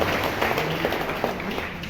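An audience at a Maluku police event on traffic cameras claps for a woman teacher, steady crowd applause lasting a couple of seconds with a few sharper claps standing out.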